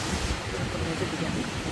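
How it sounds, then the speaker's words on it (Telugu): Ocean waves wash steadily onto the shore in a continuous loud broadband roar, with wind noise on the microphone and light rain falling. "ఎంత బాగుందో ఆ సౌండ్, అలలు."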